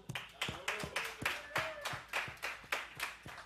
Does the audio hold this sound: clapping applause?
yes